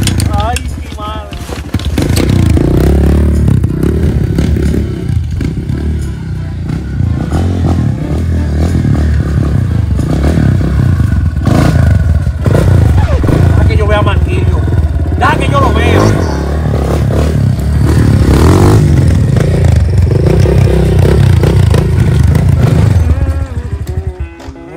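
Supermoto motorcycle engine runs loudly close by, revving up and down with clattering mechanical noise over a sustained rough drone, while a voice talks over it.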